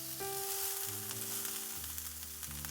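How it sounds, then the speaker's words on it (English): Onions and garlic fry in two tablespoons of avocado oil in a non-stick pan over medium-low heat, a steady close sizzle with a low tonal hum underneath and no talking. "Non-stick pan, medium-low heat, 2 tablespoons avocado oil, onions and garlic."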